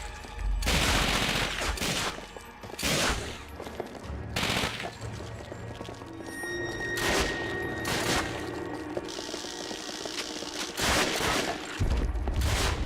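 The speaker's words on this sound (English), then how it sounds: "Please stop with the shooting for a second." Gunfire in the World War II shooter Call of Duty: Finest Hour, with loud bursts of rifle and machine-gun fire in irregular volleys and booms over about thirteen seconds.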